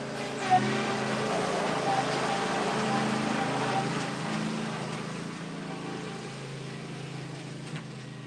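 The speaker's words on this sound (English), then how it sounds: "You get your kid on a mower driving past you, forgetting you're on video" A riding lawn mower drives past with a steady engine drone that swells a little and then eases off, heard at moderate distance and fairly faint.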